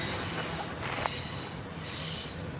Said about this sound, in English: just got a wee train there, my blue train